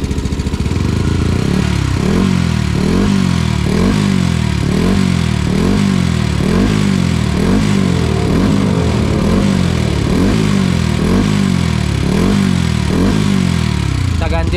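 A motorcycle engine idles loudly and close with an aftermarket exhaust set to silent mode, giving a steady rhythmic thumping burble that repeats evenly throughout.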